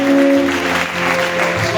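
A church congregation applauding to acclaim the Lord during a worship service, with dense continuous clapping at steady loudness and a sustained musical tone beneath it.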